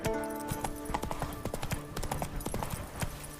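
Horse hooves clip-clop steadily at a brisk trot in The Witcher video game, a rhythmic clatter of hoofbeats close by, accompanied by a light creak of gear and no speech.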